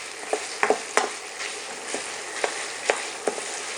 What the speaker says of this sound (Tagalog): Lulutuin lang natin to hanggang magmantika at mag-green brown. Yan, durugin lang natin yung longganisa.